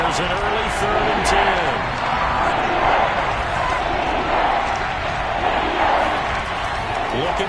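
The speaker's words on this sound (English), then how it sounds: "Crowd getting in it a bit already" Stadium crowd at an American football game involving Tampa Bay, a steady loud roar swelling during a 3rd down on an opening drive, with a commentator talking over it throughout.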